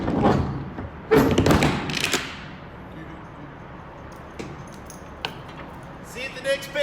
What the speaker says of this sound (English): Last thing to do before I get on the road is to close my trailer doors.